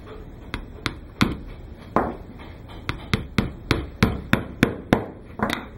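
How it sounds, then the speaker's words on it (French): Sharp, close hammer taps drive a nail through a shoemaker's insole into an orthosis, a dozen or so strikes in a quickening, uneven rhythm. "Je vais mettre un dernier clou en plein centre, ici, à l'avant."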